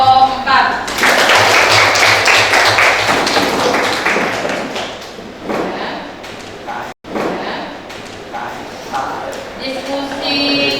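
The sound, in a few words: class applauding group 4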